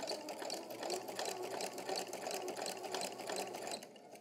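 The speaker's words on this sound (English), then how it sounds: "we are going to backstitch here just to finish that off" A sewing machine stitching a curved seam in fabric runs steadily with a fast, even mechanical whir and rapid needle ticks, continuous and close, easing off slightly at the very end.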